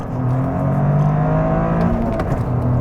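A 2024 Toyota Corolla GR engine roars steadily under hard acceleration from a launch, a loud, sustained drone with rising mechanical whine, no talking.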